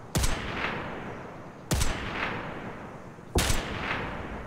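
Three sharp gunshots from the video game Escape From Tarkov, spaced about 1.6 seconds apart, each a loud crack followed by a rolling echo tail, with no talking.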